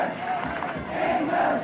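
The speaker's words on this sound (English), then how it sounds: "Sounds like the World Cup again with the crowd chanting England," A football crowd at a Tottenham Hotspur versus Leicester City match chants in unison, a broad rolling roar of many voices rising and falling at a distance for about two seconds.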